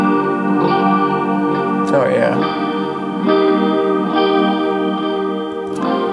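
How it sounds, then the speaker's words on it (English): Sustained, effect-laden tones drenched in delay repeats that wash into a long reverb tail, with a brief spoken remark partway through. "The delay going into a reverb just makes it sound way better."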